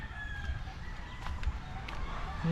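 Hens on a farm cluck and call faintly in short bursts against a quiet outdoor background, with a brief crow-like call partway through.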